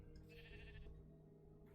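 A sheep in the Minecraft video game gives a single short bleat, clear but fairly quiet, over a steady game background hum.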